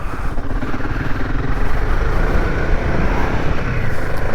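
The engine of a Royal Enfield Himalayan 450 motorcycle runs steadily and loudly close by, a rough continuous drone with no talking over it.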